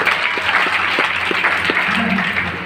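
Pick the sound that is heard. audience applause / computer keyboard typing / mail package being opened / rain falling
audience applause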